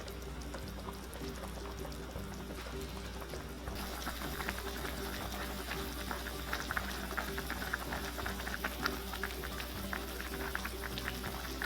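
Thai braised pork belly and eggs simmer under a lid in a pot over low heat, a steady bubbling and popping that runs continuously and grows busier partway through, with no talking.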